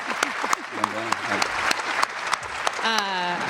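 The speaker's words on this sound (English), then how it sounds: "Give you a little round of applause." Audience clapping at a men's basketball coach's press conference, moderately loud and continuous, with a voice talking over it and rising speech-like tones near the end.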